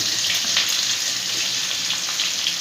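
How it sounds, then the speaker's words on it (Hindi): Chillies, garlic and ginger fry in hot oil for cabbage Manchurian, giving a dense, steady sizzle that stays loud and unbroken throughout with no speech. "तो मिर्च डाल देते हैं और लहसुन और अदरक को डाल देते हैं"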